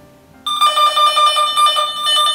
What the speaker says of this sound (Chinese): 这台电话交换机有明显的巡线的声音